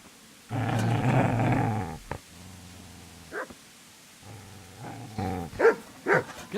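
A dog in Kingdom Come: Deliverance growls low and long, then snarls and barks in short sharp bursts, close and fairly loud.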